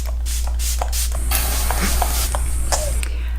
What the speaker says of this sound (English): I'm gonna add a little setting spray and we will be all finished.